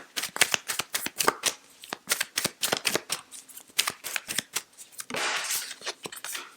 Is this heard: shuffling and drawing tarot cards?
yes